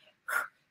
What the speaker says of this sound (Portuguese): Uma respiração de uma pessoa que tem depressão.